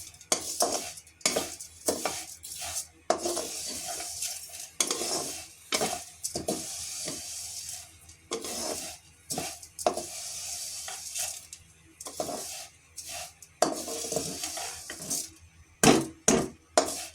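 Vermicelli roasting in ghee over low heat, stirred in a pan with a utensil: a soft sizzle under repeated scraping and clinking strokes that come in irregular bursts, close by.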